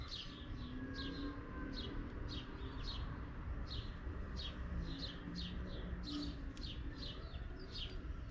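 Birds chirp steadily outdoors in quick repeated tweets, a continuous busy chorus over a noisy background rumble, beside a 2018 Chevrolet Camaro.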